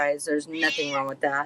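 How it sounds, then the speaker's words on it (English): A pet cat named Simon meows repeatedly at close range, its calls overlapping and woven through a person's ongoing talk. "that's my cat"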